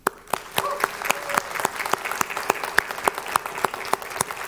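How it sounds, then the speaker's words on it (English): A Sunday morning congregation gives a round of applause, with scattered clapping and one sharp, regular clap repeating close by over the softer spread of hands. "a round of applause to these two people and their organization, the Gathering Friends"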